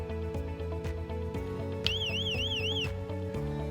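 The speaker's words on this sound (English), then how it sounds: "press and hold the stop and down button until you hear the audible alarm" A shrill electronic alarm on a Somfy Rollixo Premium io garage door warbles rapidly for about a second over a steady background of humming tones.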